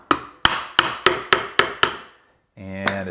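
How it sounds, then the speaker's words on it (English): Rubber mallet smacking a block of wood held against a Briggs & Stratton overhead valve engine, seven sharp, evenly spaced whacks close by, then a pause and a short burst of harsher metallic clatter. "let's go get a little rubber mallet. Let's get this knocked off"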